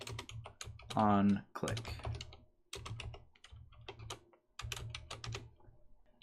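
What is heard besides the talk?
computer keyboard typing code in Unity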